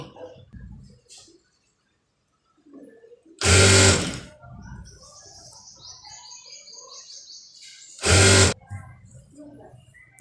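A sewing machine stitches piping onto an inner blouse in two short, loud bursts several seconds apart, with quiet rustling and faint background chirps between the runs.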